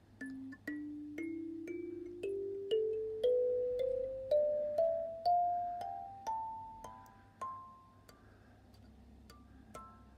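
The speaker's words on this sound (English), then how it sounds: "I can use my kalimba," A kalimba is played in a slow rising scale of plucked metal tines, each note ringing and decaying before the next, about a dozen notes over ten seconds with no voices, quiet and close.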